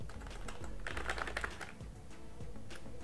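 Quiet clatter of a computer keyboard as someone types code in a programming tutorial, with quick irregular bursts of keystrokes and short pauses between them.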